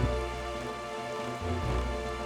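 Rain falls steadily in The Legend of Zelda: The Wind Waker, a dense, even hiss with a soft low rumble beneath, continuous and alone.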